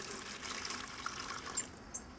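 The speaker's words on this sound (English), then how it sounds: "So first a little bit of water." Water is poured in a small amount into a container for mixing tile adhesive during bathroom finishing, a steady soft trickle and splash, fairly quiet and close, with no talking.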